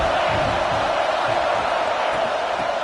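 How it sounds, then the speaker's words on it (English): Dense, steady roar of a college football stadium crowd cheering, loud and continuous throughout with no break, like a packed stand of fans making noise against the opposing team. "This crowd going to try to make life miserable for these guys."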